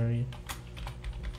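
A few quick keystrokes tap on a computer keyboard while an email address is entered, with light close clicks in a quiet room.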